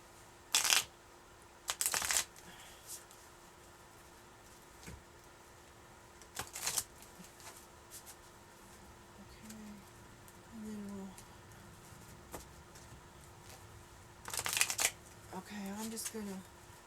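Cards are riffle-shuffled in several brief, crisp bursts spread across the stretch, with quiet murmuring in between.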